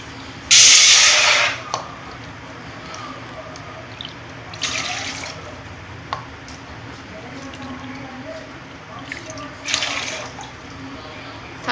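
Three cups of water are poured for ginger kashayam in short splashing, hissing bursts. The first pour is loudest and longest, then briefer trickles follow over a quiet kitchen background.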